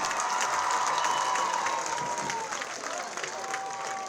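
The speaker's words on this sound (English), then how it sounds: "Give them another round of applause." Crowd applause and cheering for a high school band at a football game in the stands, a dense continuous roar of clapping and voices that fades slightly toward the end, with whistles and shouts mixed in.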